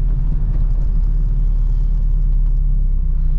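Acura RSX Type S making a hard launch with a little wheel spin, its engine a loud, steady, close roar that holds through the whole moment without any voices.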